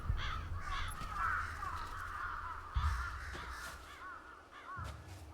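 Crows in the video game Final Fantasy XVI caw repeatedly, several harsh calls overlapping in a loose, irregular rhythm over a quiet low ambient bed.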